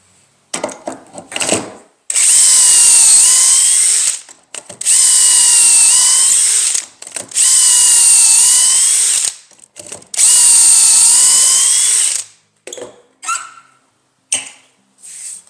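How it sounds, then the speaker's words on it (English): A power drill whines loudly in four long bursts of a few seconds each, drilling holes in wood, with clicks and handling noises in the pauses. "So now we're going to drill our holes."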